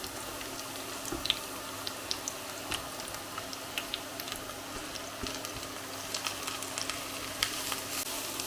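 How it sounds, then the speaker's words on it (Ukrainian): Steady crackling sizzle of mushrooms frying in a pan, with scattered pops and light clicks throughout, close and moderately quiet, no talking. "Гриби смажаться"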